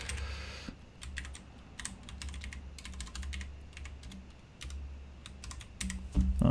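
Fingers typing on a computer keyboard, bursts of quick clicking keystrokes in irregular rhythm with short pauses, close and clear over a low background hum.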